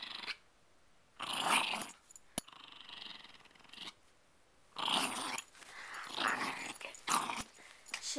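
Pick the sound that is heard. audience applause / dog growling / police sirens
dog growling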